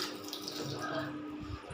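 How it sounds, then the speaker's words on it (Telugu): A household tap runs, filling water for a bath, producing a steady close splashing stream with no talking. "వాటర్ నీళ్ళు తిప్పుకున్నాం."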